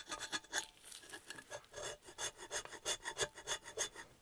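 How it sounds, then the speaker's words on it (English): A scraper works gasket residue off an aluminium cylinder head from a 1978 Reliant Kitten DL engine, a quiet close-up rasping made of quick repeated strokes in an irregular rhythm, with no one talking. "This is the right tool for scraping gaskets."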